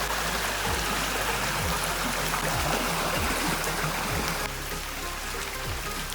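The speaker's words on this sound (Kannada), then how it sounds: "ತುಂಬ ಸ್ಪೀಡ್ ಉಂಟಾಯ್ತಾ ಇಲ್ಲಿ ನೀರು" Fast-flowing stream water rushes beneath a small bridge during rain, a steady close gurgling flow with repeated low surging pulses and no voices.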